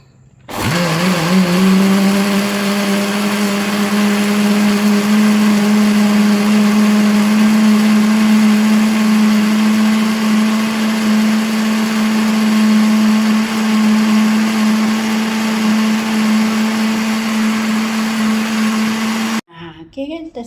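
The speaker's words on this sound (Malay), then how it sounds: "Sekarang kita blender cili kita yang tadi" A blender starts abruptly and runs at a loud, steady whine for nearly twenty seconds blending red chili peppers, then cuts off with a brief clatter.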